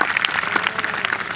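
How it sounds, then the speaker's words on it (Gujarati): Scattered clapping from a school program audience at Sharda Mandir school, Devli, applauding an elderly grandfather figure; fairly quiet, uneven claps rising and falling over a short stretch with no talk. "દાદાને જોરદાર તાળીઓ જોડાવો."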